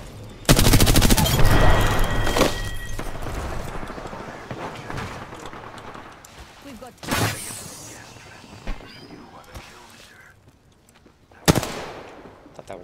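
Gunfire from a team-based battle royale video game, a loud sustained automatic volley near the start, then faint distant shots and two sharp later cracks over a low background rumble.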